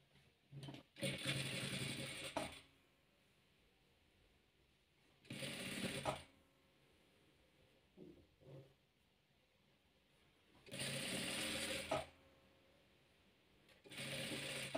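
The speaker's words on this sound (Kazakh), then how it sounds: "Енді осыны мына қатарымызге тігеміз." Several separate bursts of a sewing machine stitching rows of a chess-pattern patchwork quilt, each run lasting a second or two, with quiet pauses and small mechanical clicks between them. The machine sounds close, and no one speaks.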